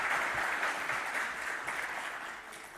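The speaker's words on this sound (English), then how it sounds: "This totally deserves a round of applause." Steady, dense applause from a crowd at a memorandum of understanding signing ceremony between LankaPay and Fonepay, continuous and full throughout with no voices standing out.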